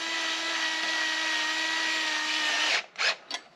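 Cordless power driver running 4mm Allen bolts down on a Honda CRF300L radiator guard, a steady whirring spin lasting close by, then cutting off and followed by two short bursts.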